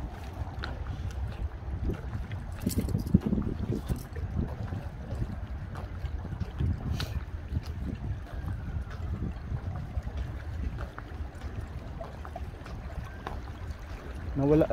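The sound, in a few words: wind blowing on boat at sea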